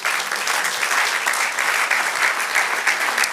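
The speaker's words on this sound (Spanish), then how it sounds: "Dale aplauso al Señor." Loud, steady applause from a church congregation, continuous clapping filling the whole stretch without pause.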